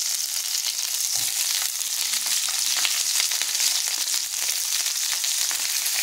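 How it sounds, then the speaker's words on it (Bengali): Cut capsicum and square-cut onion pieces fry in hot oil, giving a steady, even sizzle with faint crackles and no voices. "এখানে কেটে রাখা ক্যাপসিকামগুলো দিয়ে আমি সুন্দর করে এগুলোকে ভেজে নেব"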